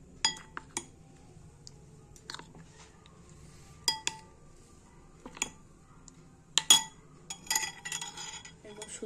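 Cauliflower florets stirred through a gram flour batter in a bowl, heard as sparse light clinks and taps of a spoon against the bowl with quiet pauses between them, building to a busier cluster of clatter near the end.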